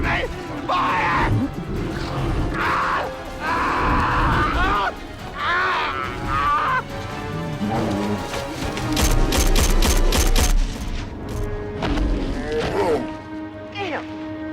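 Gunfire erupts in an action movie scene, a rapid burst of loud shots mixed with shouting voices, groans and crashing effects amid a busy soundtrack.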